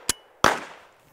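A Henry pump-action rimfire rifle fires one sharp, close shot whose crack rings out and decays over about half a second, just after a brief metallic click.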